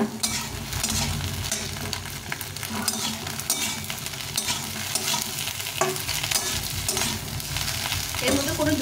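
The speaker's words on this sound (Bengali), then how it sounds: "ভালো করে নেড়ে নেড়ে বেগুনটাকে ভেজে নেব।" Brinjal pieces frying in oil without water, hissing steadily while a spoon stirs and scrapes against the pan in frequent clatters; no talk over it.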